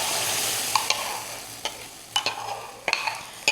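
Pumpkin mixture hits hot butter in a pan and sizzles steadily, with a scattering of sharp clinks and scrapes from a utensil against the pan over the continuous frying hiss.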